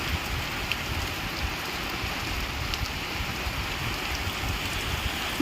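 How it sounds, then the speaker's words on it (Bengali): Steady rain falling outdoors on a rainy day, a dense even patter that is fairly soft and unbroken, with no voices. "বৃষ্টি পড়ছে তার মধ্যে এত সুন্দর"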